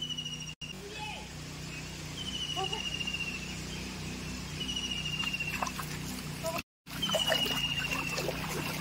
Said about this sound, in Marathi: अशा प्रकारे विहिरीचं पाणी इकडे वाहत आहे.